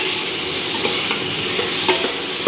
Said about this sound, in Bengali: এবার এটাকে নাড়াচাড়া করে একটু কষিয়ে নেবো ভালোভাবে।